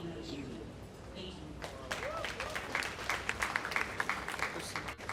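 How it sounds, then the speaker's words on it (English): Audience applause at a Nigerian creative industry event, breaking out after a quiet moment with a voice at the start, then swelling into dense, lively clapping from a crowd. "She deserves a better round of applause."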